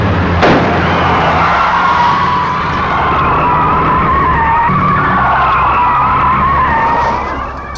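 A car rams a fugitive's car from behind during a chase, with a loud, continuous tire screech and roaring engine sustained throughout, close and without speech.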